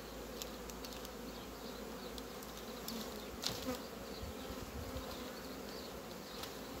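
Honeybees in a hive buzz steadily in a dense, low drone, with individual insects flitting past closer now and then.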